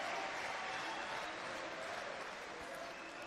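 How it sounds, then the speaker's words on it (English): A darts crowd at a European Tour match roars and applauds, a dense, steady wash of cheering and clapping that fills the whole moment at moderate level. "the crowd are being given something to cheer here"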